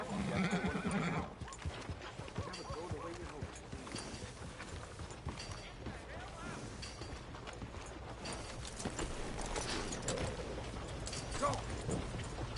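Horse in the video game Red Dead Redemption: a loud neigh at the start, followed by continuous hoof clip-clops and movement, with a second whinny later against game ambience.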